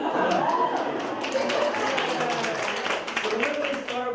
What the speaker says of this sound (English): I get everybody in the room to clap